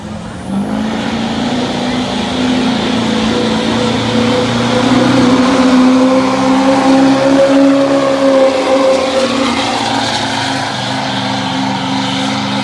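A Chevy pulling truck's engine roars steadily down the track at a tractor pull in Marshfield, Wisconsin, a loud sustained drone with rising and falling pitch that holds for most of the stretch.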